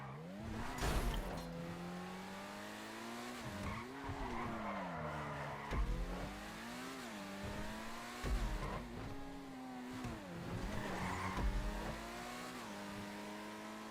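Benefactor Krieger supercar in a GTA video game accelerating on a test track, engine note repeatedly climbing through gears with shift dips and tire squeals, loud and steady with no talk.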